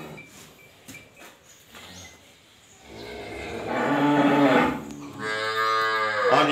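A Sahiwal cow offered for sale lows in long, rising moos that build from quieter grunting into a loud, full bellow near the end.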